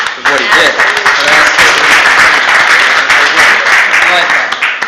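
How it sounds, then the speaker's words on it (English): Loud, sustained applause from a crowd at a borough council meeting, dense clapping filling the room for several seconds without a break. "a second round of applause"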